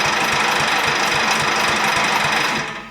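A 1988 Dixon ZTR 311 riding mower's small engine runs steadily and close by, a loud continuous mechanical clatter with a fast knocking pulse that holds even and then cuts off abruptly at the end.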